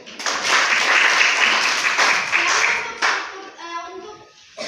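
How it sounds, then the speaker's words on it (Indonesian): Classroom applause, a dense burst of clapping from many students that fades unevenly and trails off into scattered claps and young voices at the end. "tepuk tangan dulu untuk Ruth."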